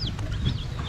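Young chicks a few days old, recently bought as added farm poultry, give a quick run of soft chirping peeps and clucks close by in under a second, over a low background hum.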